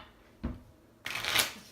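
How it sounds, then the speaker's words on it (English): Crystallo game cards get a quick shuffle: a brief soft riffle, a short pause, then a longer, brighter riffle, close up and alone. "I'm gonna give them a really quick shuffle"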